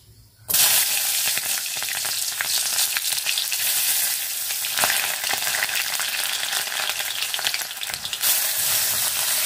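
Mushrooms frying in hot oil in a home kitchen, a loud steady sizzle that starts abruptly and continues without a break, with occasional stirring scrapes and no talking.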